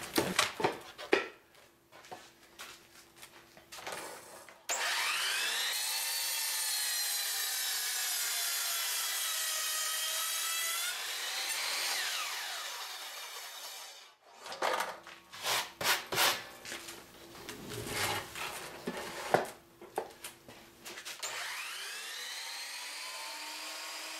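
A power saw cuts thin wooden sheets for mini beehive frames in a workshop, loud whining passes of several seconds each, then a burst of clattering handling and short cuts before another sustained whine.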